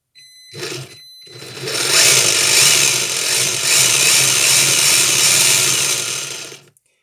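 A small RC car drivetrain whirs and grinds loudly and steadily for several seconds after a brief start, with a harsh, rattling mechanical edge.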